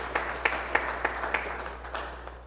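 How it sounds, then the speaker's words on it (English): Scattered, fairly even clapping from a congregation at an Igbo Anglican church thanksgiving service, sounding at a moderate distance with steady spacing between the claps and gradually fading toward the end. "of course, clap it for her"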